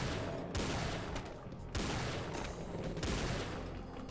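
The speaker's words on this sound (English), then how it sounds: "Shot all 6 shots from the revolver that has 6 shots." Revolver gunfire in the video game Doom 2, a rapid string of loud, close shots with dense blasts and brief gaps between bursts, heard alone without talk.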